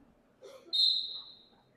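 A referee's whistle at a high school wrestling match between Louisville and Tuslaw gives one short, sharp, fairly faint blast that fades out against quiet gym background.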